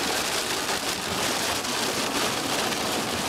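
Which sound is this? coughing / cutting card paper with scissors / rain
rain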